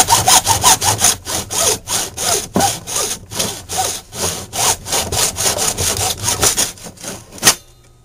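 A hand saw cuts through PVC pipe held in a miter box, giving loud, close, rhythmic rasping back-and-forth strokes that run steadily and then stop.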